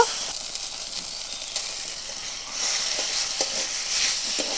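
Grated coconut being stirred into a vegetable dish of dostol kochu with hilsa fish head in a rural kitchen, giving a steady close frying sizzle with soft scraping stirs throughout, no voices.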